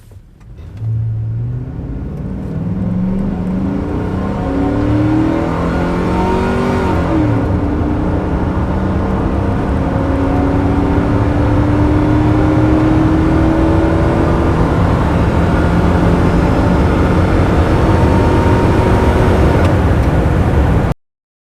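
A 2005 Chevy Silverado with the 5.3 V8 launches on a quarter-mile run, its engine revving loudly and climbing through several gear changes in one long, sustained pull from inside the cab.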